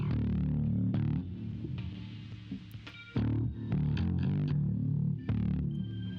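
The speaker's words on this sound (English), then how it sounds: "just this original bass track that I processed with EQ and compression" An electric bass track processed with EQ and compression plays a punchy riff of distinct plucked notes with clear attacks and pauses, loud and upfront, with no voices.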